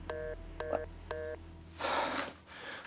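A telephone keypad dials three short, evenly spaced beeping tones, followed by a burst of broadband noise and a fainter hiss, all without speech.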